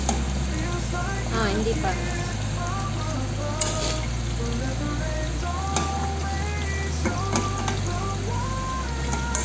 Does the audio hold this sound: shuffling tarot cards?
no